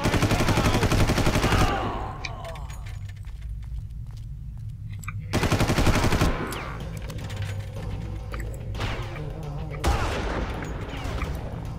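Gunfire erupts in the Far Cry video game, dense bursts of rapid automatic shots in three loud clusters, each trailing into echoing decay and scattered single reports between.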